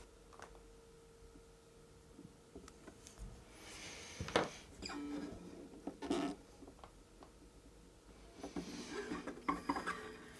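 A small file cuts string grooves into guitar bridge saddles during a Bigsby tremolo setup. Faint, scattered rasping strokes and light mechanical clicks sit over a quiet room, with no talking.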